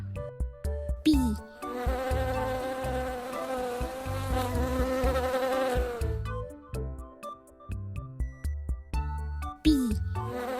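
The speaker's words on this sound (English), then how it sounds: "Bee." Bee buzzing in a loud, sustained drone for several seconds, set between short musical sound effects in a children's animal-sounds sequence.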